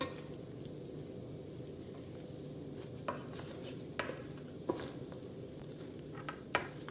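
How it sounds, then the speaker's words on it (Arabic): Chicken stuffing ingredients for Djerba-style rice being mixed together in a bowl, soft wet squishing and stirring with occasional light clinks of utensil against the dish, close and quiet. "خلطوه الكل مع بعضه."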